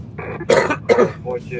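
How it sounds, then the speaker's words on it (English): A single cough close to the microphone with throat-clearing around it, short and loud. "Oh no, I coughed!"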